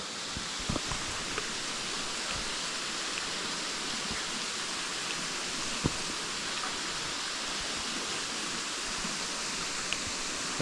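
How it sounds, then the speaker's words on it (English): Waterfall at Routin Linn pouring down rock into a groove, a steady broadband rush of falling water heard from moderately near, constant and unbroken with faint small ticks and no talking. "point the camera to the waterfall that way. So you can see the water going into the groove on the right hand side and dropping down the rock"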